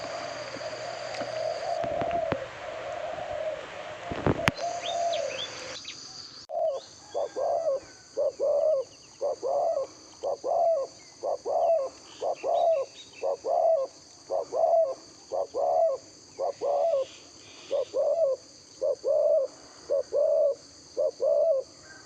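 Repeated rhythmic spotted dove cooing, about fifteen evenly spaced low hooting phrases, close and clear, after a few seconds of louder background noise.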